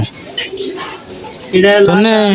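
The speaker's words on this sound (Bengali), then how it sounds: "কি কবুতর কিনে নিয়েছ?" Newly bought pigeons, including a red Bombay pigeon, coo close by in low, throaty bursts that swell louder toward the end, with human voices mixed in.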